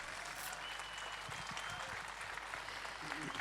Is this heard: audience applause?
yes